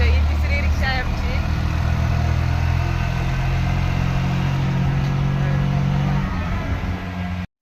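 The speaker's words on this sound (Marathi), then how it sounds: "यांची रिक्षा, ही तिसरी रिक्षा आहे आमची." An auto rickshaw drives along a village road in Versova, its steady mid-pitched engine drone running loud and continuous throughout.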